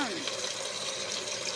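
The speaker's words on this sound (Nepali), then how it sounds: "अब यो चाहिँ पानी हालेर" A steady, rushing stream of water pours continuously, fairly close and loud, with a faint voice underneath.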